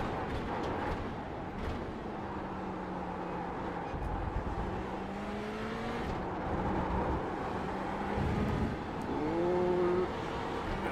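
Ferrari race car engine in the IMSA VR racing game, a steady droning roar throughout with rising and falling whine as revs shift, plus a sharper higher-pitched note near the end.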